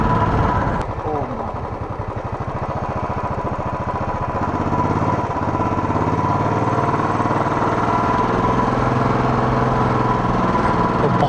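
A Royal Enfield Bullet 500cc ABS thumps in first gear climbing a steep mountain slope, a loud, close, rapid single-cylinder pulse that steadies into a strained drone, with someone talking over it.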